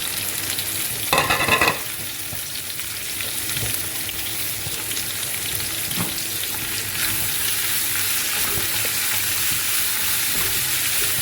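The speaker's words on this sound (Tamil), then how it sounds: "வெங்காயம், பச்சை மிளகாய் எல்லாம் ஒன்றா போட்டுக்கலாம்." Onions and green chillies frying together in a pan for a karuvattu fry, a constant close sizzle with a brief louder scrape or splash early on and occasional stirring clicks.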